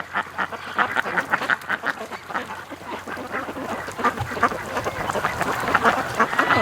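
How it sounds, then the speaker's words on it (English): Ducks at a lake give steady, overlapping courting quacks, many calls layered close together and growing slightly busier toward the end. "They've got that quack courting sound today."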